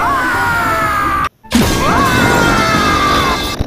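A loud crash-like blast cuts abruptly to a brief silence, then a dense burst of noisy debris and rumble carries on, with sweeping tones throughout.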